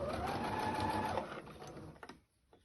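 A sewing machine stitches piping with a fast, steady motor whir and needle chatter for just over a second, then slows to a few scattered clicks and stops.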